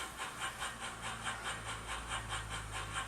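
OO gauge 2-6-2T model tank locomotive with a Soundtraxx Econami ECO 100 sound decoder, giving a quiet, regular rhythmic chuff of steam exhaust beats over a low hum.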